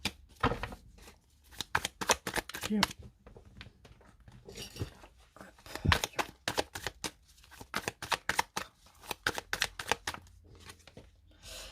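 A deck of cards shuffled for a tarot-style reading, close and crisp, with rapid riffling bursts and pauses between rounds, no voices.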